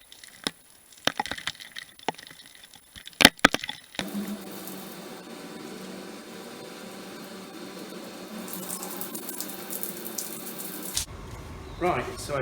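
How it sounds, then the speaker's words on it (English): Bicycle rinsed down with running water while being cleaned: a few knocks and clatters at first, then a steady hissing spray of water for several seconds that stops abruptly near the end. "and finish washing the bike down."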